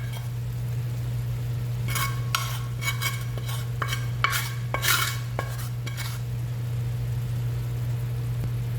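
Sautéed molokhia with garnish being stirred in a pan: a run of quick scraping clinks from a spoon against the metal in the middle, over a low steady hum and faint sizzle, no talk.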